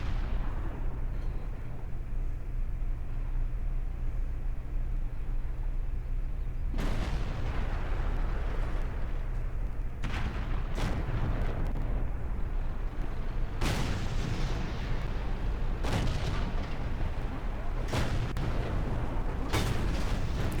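Tank cannon fire in World of Tanks from an STB-1 tank: loud, heavy booms burst out at irregular intervals, several in quick succession toward the end, over a constant low rumble.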